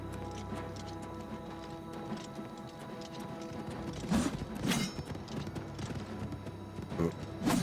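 Horse in The Elder Scrolls IV: Oblivion Remastered clip-clops at a moderate pace amid game sounds, with a few sharper thumps and impacts standing out near the middle and end.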